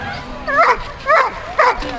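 A Belgian Malinois-type working dog barks sharply in three bursts while waiting at the start of a run, with a person's voice talking in the background.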